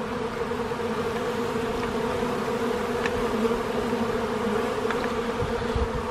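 Honeybees swarm around an open hive during an inspection, giving a dense, steady buzz that holds at an even level throughout, close and continuous, with a few faint clicks and no speech.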